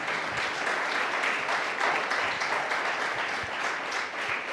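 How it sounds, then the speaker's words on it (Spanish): A church congregation claps steadily throughout, a dense, continuous wash of many hands at moderate volume with no voices standing out. "Aplauda al Señor si quiere"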